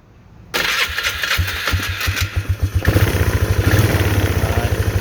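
A Polaris Trail Boss 325 ATV engine with a carburetor problem starts abruptly and runs on its own, with a steady, loud putter that rises into a rapid, rhythmic pulsing as the throttle is opened.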